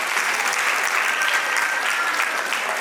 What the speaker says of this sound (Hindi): तालियों की गूंज चलती रहनी चाहिए